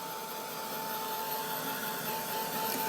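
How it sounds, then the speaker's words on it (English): Heat gun blasting steadily to dry freshly stencilled paint on brickwork, a constant close airy roar with a fixed whine running unbroken throughout, no talking. "So I'll give that a blast quickly with the heat gun."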